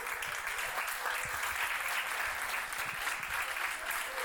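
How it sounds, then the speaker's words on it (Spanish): A large audience gives sustained applause at a community event in La Danta, a dense continuous roar of many hands clapping, distant and even. "vamos por acá a darles un aplauso enorme, por favor"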